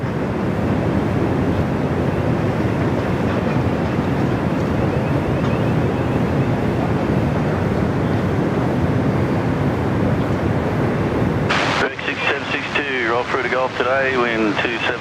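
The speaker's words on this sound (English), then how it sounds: "787 about to blast off here." A Boeing 787 jet takes off at Sydney Airport, its engine roar a loud, continuous broadband rush mixed with heavy wind buffeting on the microphone, before a voice breaks in over the noise near the end.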